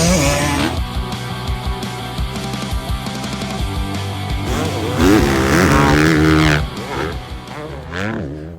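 2024 KTM 250SX two-stroke motocross bike engine revving loud and close, its rising and falling pitch sweeping through rapid throttle blips, with a second engine note joining midway.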